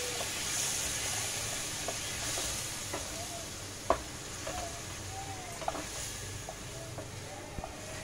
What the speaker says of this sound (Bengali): গরম জল করে নিয়েছিলাম, অল্প অল্প করে দিয়ে দিচ্ছি।